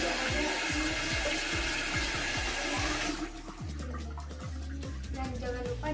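Tap water runs steadily and loudly while hands are rinsed at a sink, the rushing flow softening partway through as the hands move under the stream.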